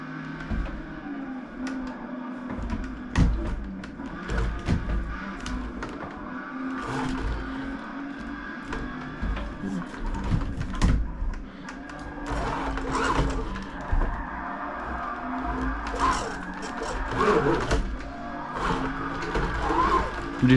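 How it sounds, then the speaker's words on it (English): A Lamborghini drifts in the Forza Motorsport racing game, engine revving and whining through shifting throttle with scattered tire and impact noises, moderately loud over about twenty seconds, with some talk mixed in. "Do some drifting in the Lamborghini."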